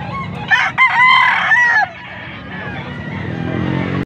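A rooster crows loudly and close by, one long rising-and-falling call, followed by a lower steady background hum.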